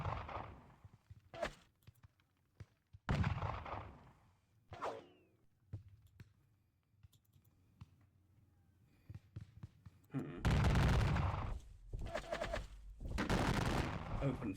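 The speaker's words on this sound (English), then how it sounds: "So Brunswicks will open fire on them." Musket volleys crack out in a Napoleonic wargame battle at Valmy, with scattered single shots followed by a heavy burst of massed gunfire near the end, loud against quieter stretches of background ambience.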